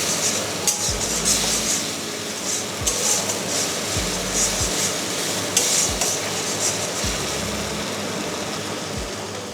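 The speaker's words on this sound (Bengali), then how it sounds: "তারপর হালকা নেড়ে বেটে রাখা টমেটো দিয়ে দিলাম। তারপর ভালো করে খানিকক্ষণ কষিয়ে নেব।" Spoon scraping and knocking against a pan while ground tomato is stirred and sautéed for a Bengali fish curry, repeated clinks over a steady background hiss.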